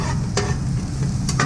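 Onions browning on a griddle for cheesesteaks, a close, steady sizzle with a couple of quick scraping stirs, no speech.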